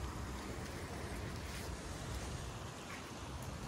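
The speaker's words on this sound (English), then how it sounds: "So we call this the Chedoke Waterfall number whatever, huh?" Chedoke waterfall on a March hike, a faint, steady rushing wash of falling water with some wind noise and no talking.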